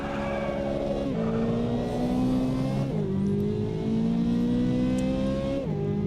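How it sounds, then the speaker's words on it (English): Race car in the Automobilista 2 sim racing game launching from a standstill with launch control at maximum revs, engine screaming loudly and climbing through several gear shifts with brief dips between them, continuous and close. "So, neutral, hit the launch control button. Maximum revs, let go."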